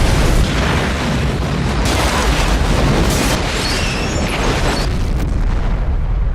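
Loud, dense blasts from movie explosions rumble and roar continuously for several seconds, with sharper bursts breaking through the heavy broadband noise.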